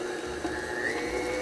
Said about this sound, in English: today I'm using my stand mixer with the paddle attachment